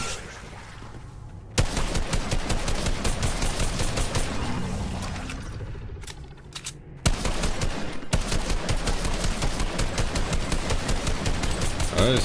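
Rapid bursts of automatic gunfire from the Fortnite vampire zombies map rattle loudly and continuously, with a brief lull before the shooting resumes.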